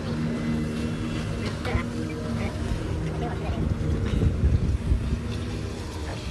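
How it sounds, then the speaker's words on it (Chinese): A jet ski runs on open water with a steady, loud engine drone and hull slap, continuous throughout, while voices talk over it. "这是一博第一次开摩托艇"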